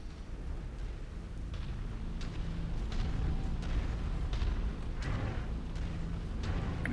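Mech explosions in the MechWarrior 5 video game, a run of deep booming blasts over a constant low rumble, with no voices.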